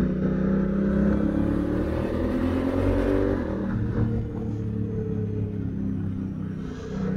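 A Honda Africa Twin DCT motorcycle accelerates hard through town, its engine rumbling loud and close, the revs climbing steadily and then easing off near the end.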